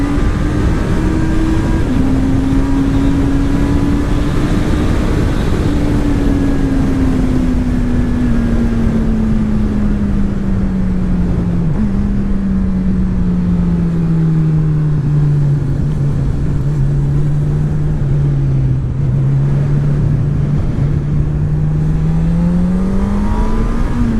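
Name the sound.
Honda CB1000R motorcycle engine accelerating hard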